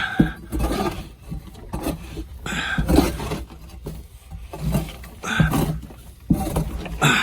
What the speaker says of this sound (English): Clean up this coop.